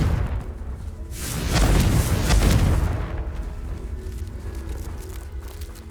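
A Confringo explosive spell blast in Hogwarts Legacy, a broad rumbling burst that swells over a second or two and then fades into lingering low game ambience, with no voice over it.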